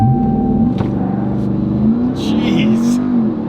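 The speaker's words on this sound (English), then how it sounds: "Apply brake pressure, full throttle, and then we're gonna let go." A RAM TRX pickup truck launches hard from a launch-control start on a wet road, its engine roaring and revving up steadily and loudly through the gears, heard from inside the cab.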